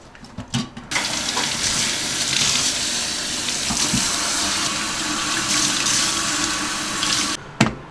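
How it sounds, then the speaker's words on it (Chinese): A kitchen tap runs steadily into a sink where coriander is being washed, a loud continuous rush of water that lasts most of the time, with a few clunks at the start and end. "由于我们没那么大的盘哈，让我们直接在洗碗池里面洗哈。"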